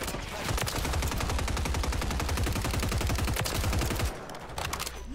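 Sustained automatic gunfire in Modern Warfare 3 hardcore mode: a rapid, loud, continuous stream of shots with the trigger held for about four seconds, then a brief pause before more faint shots.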